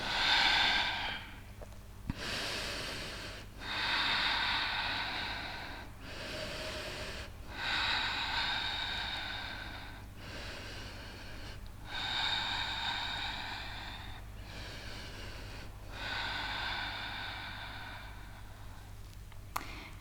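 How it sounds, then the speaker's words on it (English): Slow, long, deep breaths taken during a yoga sun salutation, with each airy inhale and exhale drawn out over several seconds. About five full breath cycles come close and clear against a low steady hum. "take 5 long, deep breaths here"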